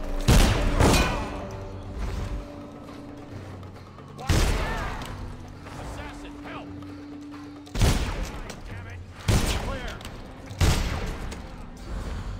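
Heavy gunshots and booming blasts from the Dishonored video game on PS3, spaced in loud bursts every few seconds with ringing tails, mixed with game voices and ambient hum between shots.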